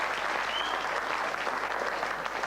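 Audience applause, a dense, even patter of many hands clapping throughout, fairly loud and with no talk over it.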